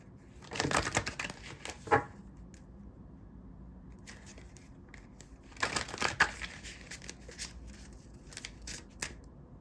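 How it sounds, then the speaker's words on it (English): A bunch of oracle cards falls and scatters, two quiet bursts of papery slapping and flutter separated by stretches of near silence in a calm room. "I just dropped a bunch of cards"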